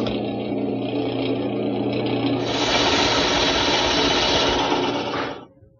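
Drilling a 3-inch-deep hole into a wooden bedpost for a bed bolt: a steady, close, loud power-drill whine that rises in pitch partway through as the bit bites deeper, then cuts off abruptly near the end.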